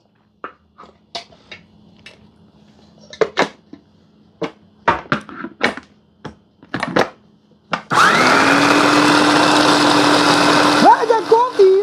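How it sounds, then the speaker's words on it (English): An electric grinder whirs loudly and steadily for about four seconds, grinding pork chop stuffing, after a stretch of kitchen clatter and short knocks; its pitch settles into a sustained whine before cutting off near the end. "we're going to grind it up a little more"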